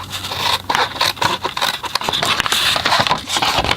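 Scissors cut a notch into a cardstock panel for a tall, slim gift box with a circle closure, giving close, steady scraping and snipping strokes with no talking.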